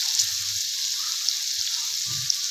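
Masala-coated okra and gram flour sautéing in oil in a pan, giving a steady bright sizzle throughout with a few soft low stirring bumps, close up and without talk.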